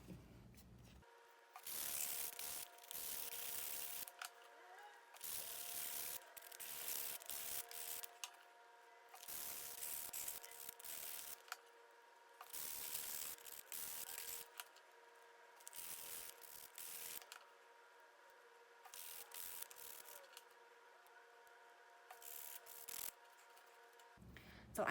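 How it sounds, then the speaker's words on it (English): Wooden mountain wall art pieces being sanded by hand, short repeated bursts of soft scratchy rubbing with pauses between strokes, close and fairly quiet over a faint steady hum. "you're going to sand all of your mountain pieces now so they're soft to the touch"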